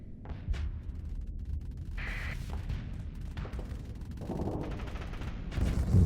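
Missiles launch and weapons fire in the space combat game Starsector, with a busy run of bursts, whooshes and thuds layered over a constant low rumble.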